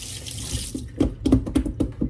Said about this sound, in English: let me rinse my finger off here